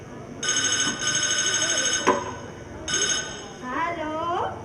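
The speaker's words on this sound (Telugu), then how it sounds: "బాబు ఫోన్ అడుగుతా ఉంది." A telephone rings in repeated bursts of electronic trilling, loud and close, with voices and background noise running beneath and between the rings.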